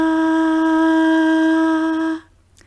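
A sustained, steady sung tone from a single voice, produced breathy with lots of air passing through the vocal folds, held evenly with strong harmonics for about two seconds before cutting off into quiet.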